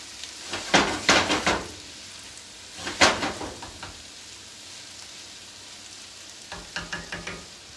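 Pork and onions frying in a pan, with bursts of sizzle and stirring scrapes in a few loud clusters separated by quieter crackling, close up and with no talk.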